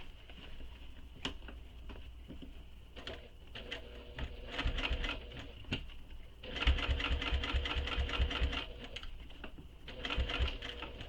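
A sewing machine stitches a crossbody bag in soft, quiet runs of rapid clatter, with brief pauses between bursts and a longer steady run toward the end.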